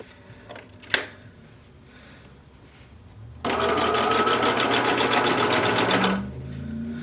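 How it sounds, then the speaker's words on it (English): A sewing machine edge stitching along the binding of a coat, a quiet handling click and rustle first, then a loud, fast, even run of stitching for about three seconds that slows and stops. "I'm going to pin stitch or edge stitch just along this edge here"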